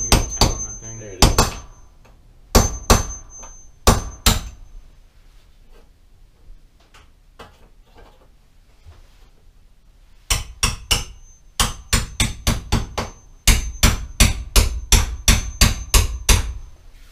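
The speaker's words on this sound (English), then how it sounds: "I just had to jam the chisel under the sheet metal, and then the sheet metal pretty much just pulled the screw right out" Sharp metal hammer strikes drive a chisel under sheet metal to pull out a screw during a mini-bus conversion, coming in clusters of loud, close blows with a quiet pause in the middle.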